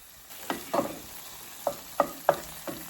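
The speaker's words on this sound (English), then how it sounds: "Now I'm going to go ahead and add my vegetables, which I had marinating for a few days now." Vegetables that have marinated and pickled for several days go into a hot pan for escovitch fish, giving a low sizzle with a few soft stirring scrapes and clacks, close and quiet.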